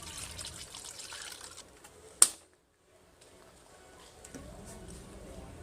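Green coolant trickles into the reservoir of a 2015 Subaru WRX STI, a soft, close liquid pour that ends with a sharp clunk before a short quiet spell and faint handling noises.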